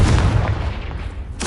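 Confringo blast spell cast in the Hogwarts Legacy video game, a deep, heavy boom that rumbles briefly and ends with a sharp crack.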